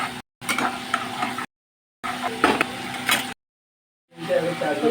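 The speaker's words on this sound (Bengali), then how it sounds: "মশলাটা ভালো করে কষিয়ে নিচ্ছি" Masala for butter paneer sizzles and frying in a pan as a spoon stirs and scrapes, in several bursts split by short cuts of silence. The sound is close.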